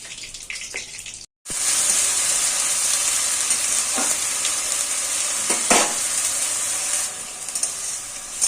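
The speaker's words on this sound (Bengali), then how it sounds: "পেঁয়াজগুলোকে আমি লাল লাল করে ভেজে নেব" Onions hit hot oil seasoned with whole cardamom and cinnamon after a brief silence, bursting into a loud, sustained sizzle with a few stirring knocks, close and without talk.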